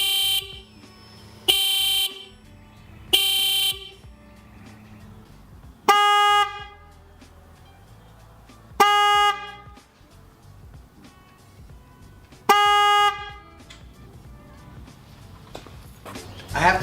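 Denali Soundbomb Mini and stock motorcycle horns compared: three short loud honks from one horn, then three longer blasts with a different tone, separated by quiet gaps.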